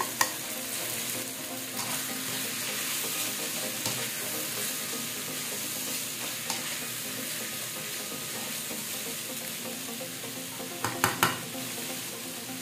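Grated bottle gourd stir-fried with sardines sizzles steadily at moderate volume, with soft stirring scrapes and a few sharp utensil clinks near the end, without any talking.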